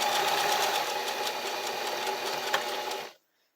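A domestic sewing machine stitches knit fabric in a steady, fast whirring run close by, cutting off abruptly after about three seconds.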